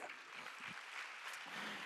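A church congregation claps together during a Sunday worship service at a university and young adults retreat, a steady, fairly distant wash of hands that keeps on without a break.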